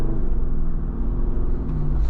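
A 2024 Jeep Wrangler Rubicon 392 Final Edition V8 rumbles steadily while driving, a deep, continuous low drone heard from inside the cabin, with no talking.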